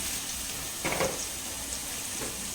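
Mustard seeds and a single dried red chilli sizzle softly in hot oil for a South Indian rasam tempering, a quiet continuous fry with a couple of faint pops and clinks.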